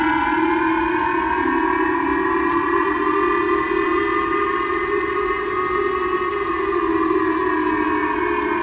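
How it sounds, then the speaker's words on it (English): A nuclear warning siren wails steadily and loudly alone, its layered tone rising and falling slowly in a long sustained alert. "Number 6, nuclear warning."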